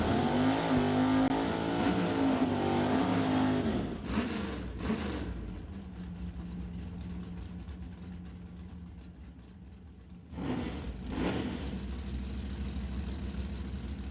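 NHRA divisional drag racing at Mission Raceway's Titanium Strip: a loud car engine roars and revs, cuts off, then a second burst of engine noise comes after a lower steady rumble.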